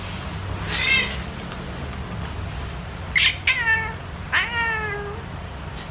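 A house cat meows several times, short rising and falling cries spaced a second or so apart, close and clear over a low steady room hum with no talking.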